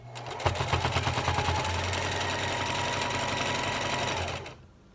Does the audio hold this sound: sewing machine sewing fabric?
yes